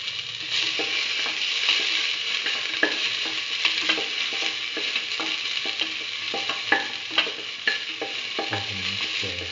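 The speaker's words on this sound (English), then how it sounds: "mix the ginger with the rest of the mixture" Ginger, salt and a potato rice mixture stirred and scraped in a hot pan for mustard potato rice, soft sizzling under repeated spoon strokes and occasional sharper scrapes, close and steady with no talk.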